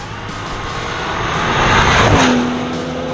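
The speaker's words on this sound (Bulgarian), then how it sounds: "Това беше ускорение от място до 200 км в час." A BMW M760 Li accelerates hard from a standstill toward 200 km/h, a loud, rising engine and wind roar that swells to a peak midway and then holds as a sustained high-speed drone.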